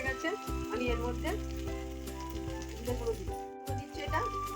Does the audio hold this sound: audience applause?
no